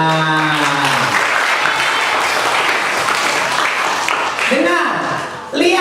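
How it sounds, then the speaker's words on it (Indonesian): A children's audience at a holiday Bible school claps together in a loud, dense burst, then the clapping fades while a leader speaks and children's voices call out near the end. "Tepuk tangan."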